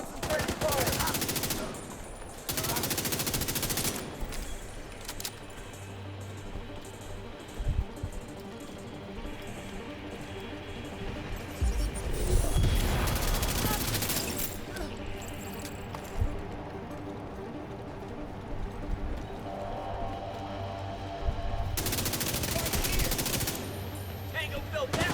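Gunfire in the shooter video game The Division 2, loud bursts of rapid automatic fire in several long volleys separated by quieter stretches of scattered shots and background game noise.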